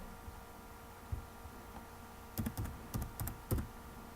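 Several keys tapped on a computer keyboard in a quiet room over a low hum, a few soft isolated presses followed by a cluster of sharper clicks, the last landing like an Enter press.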